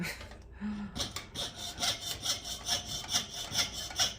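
A coping saw cuts through a large six-inch copper coin in a steady back-and-forth rhythm of rasping strokes, close up, after a brief pause and a faint thump at the start.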